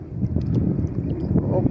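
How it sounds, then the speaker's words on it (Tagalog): Wind blows steadily outdoors by the water where fishing nets are set, giving a rough, gusty rumble with people's voices partly mixed in. "Mahangin kasi guys, mahangin."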